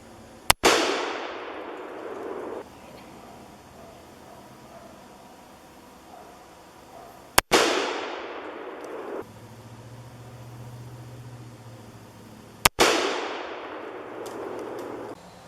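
Three loud, sharp rifle shots from a Thompson Center Contender in 30-30 Winchester, fired at a 100-yard range several seconds apart, each a crisp crack followed by a long decaying echo, with quiet background between.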